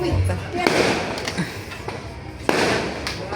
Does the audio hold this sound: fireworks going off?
yes